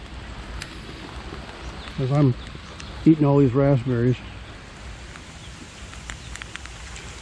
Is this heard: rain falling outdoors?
yes